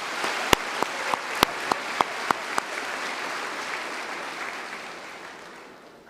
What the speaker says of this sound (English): Let's please give them all one more round of applause.